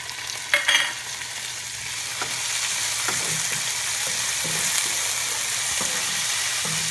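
Tomatoes are tipped into a pan of frying garlic and chilies, setting off a quick splash and clatter, then a broad, even sizzle that swells and holds, with faint scrapes of stirring.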